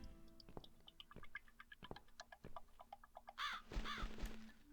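A crow caws repeatedly in short harsh calls over a faint ticking background in the video game The Cat Lady, with a couple of louder rising squawks near the end.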